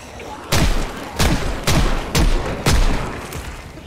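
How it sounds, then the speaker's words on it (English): Five loud, evenly spaced gunshots fired into a zombie crowd in the Project Zomboid video game, each a sharp heavy boom with a short tail, with no talking. "just shoot into the crowd and get your XP boosting"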